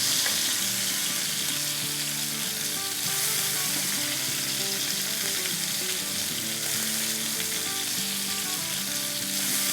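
Mutton chapli kebab frying in a pan, a dense, continuous close sizzle of hot oil with no talk.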